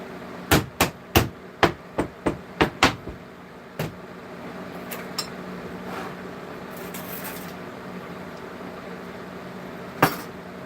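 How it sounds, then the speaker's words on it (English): About eight quick hammer strikes ring out close by in a brisk cluster, then one more blow, a few faint taps, and a final sharp hit after a pause, while copper pouring work goes on. "Just a little bit of hammering."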